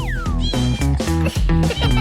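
Cartoon kitten meowing in a bright, high-pitched voice, several quick meows in a row over a tonal musical backing, loud and close with no talking.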